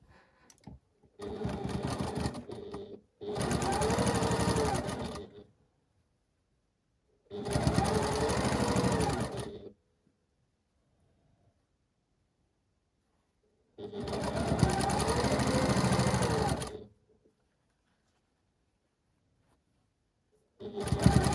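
Sewing machine stitching a quilt block seam, running in four separate bursts of a few seconds each with silent pauses between, close and steady.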